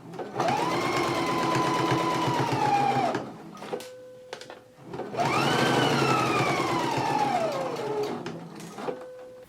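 Sewing machine stitching down the pocket facing of a Simplicity S8994 jacket along a folded edge, running in two long steady bursts with a brief pause between, close and loud.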